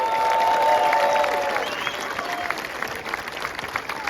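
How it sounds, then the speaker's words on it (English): A crowd applauds at a soccer club's US Open Cup trophy ceremony, a full burst of clapping and some cheering at first that thins into scattered claps, with a faint voice over it. "Round of applause for him."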